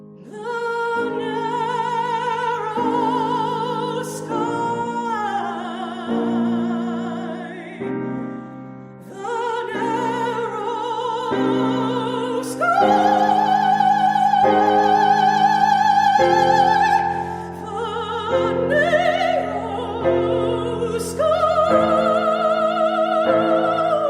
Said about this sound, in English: consists mainly of repeated piano chords.